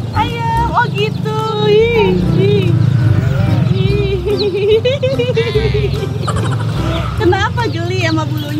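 Colorful chickens cluck and squawk in a busy, noisy seller's pen, with people talking over the bird calls throughout.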